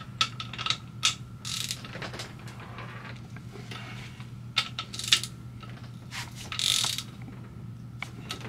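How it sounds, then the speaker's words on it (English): Ratchet clicking in several short bursts as bolts are torqued down in a diagonal pattern on a Trailmaster 150 stroker engine, close up, with metallic clinks between the bursts and no talk. "So we're going to go ahead and torque it down."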